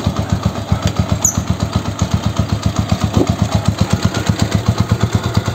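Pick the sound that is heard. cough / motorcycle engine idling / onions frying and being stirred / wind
motorcycle engine idling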